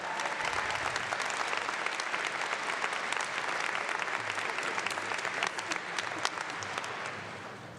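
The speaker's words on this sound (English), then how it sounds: "so we can have a round of applause for this group as well" An audience at a University of Guelph convocation applauds a group of graduates, a broad steady roar of many hands clapping that carries on evenly and eases slightly toward the end.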